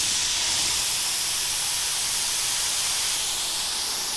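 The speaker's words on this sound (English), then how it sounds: "we spray the primer just a little slower, just a little thicker to help fill those in" Continuous loud hiss of a spray gun spraying primer, steady and close, with no talking.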